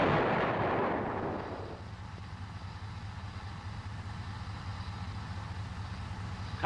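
An M551 Sheridan's main gun fires on a range: a loud opening blast rolls off over about two seconds, then gives way to a steady low rumble of idling engine noise, with no speech.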